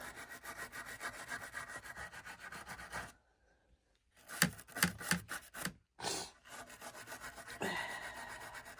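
Rust is scraped and rubbed off a seized part that refuses to turn, producing rapid, rough back-and-forth rasping strokes up close, broken by a brief pause and a few sharp, uneven bursts before the steady scraping resumes.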